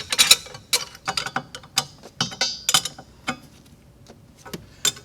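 A center bolt is tightened on a Volvo S60 engine mount, probably with a ratchet. Sharp clicks and metallic rattles come in uneven bursts, close by, with short pauses and no talking.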